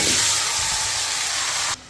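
Chicken dropped into hot oil tempering in a home kitchen pan, a loud steady sizzling hiss that holds for nearly two seconds and then cuts off abruptly.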